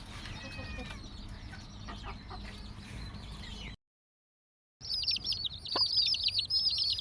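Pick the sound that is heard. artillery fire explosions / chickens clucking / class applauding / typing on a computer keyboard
chickens clucking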